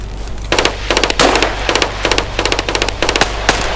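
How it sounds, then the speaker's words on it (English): Rapid automatic gunfire in Escape from Tarkov, dense bursts of loud shots crackling one after another close by with no talk over them. "That's a lot of gunfire."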